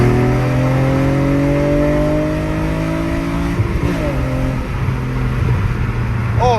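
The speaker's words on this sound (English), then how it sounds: "And the intake's really loud too." A car fitted with a carbon fiber intake airbox roars loudly up close under hard acceleration, engine pitch climbing steadily through the gear, dropping at a shift, then rising again.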